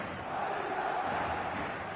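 Stadium crowd noise in the football video game eFootball 2026, a steady, fairly faint wash of massed cheering and chanting with no clear peaks.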